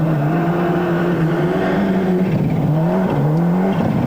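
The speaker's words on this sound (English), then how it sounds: "Characteristic popping from the exhaust of the Toyota Celica, a noise that we've grown accustomed to over the last few days of the RAC rally" A Toyota Celica turbocharged four-cylinder rally car on the RAC Rally forest stages drones loudly and steadily, its engine note rising and dipping with throttle, with faint crackles from the exhaust.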